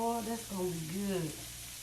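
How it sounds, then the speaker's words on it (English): Sliders sizzling on a grill being broken in: a steady, soft frying hiss runs through the whole moment, with a voiced murmur briefly rising over it near the start. "I know the sizzle sounds good and looks good."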